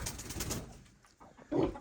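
Soft low cooing from pigeons, a few murmured calls with a louder coo near the end, fairly close in a quiet setting.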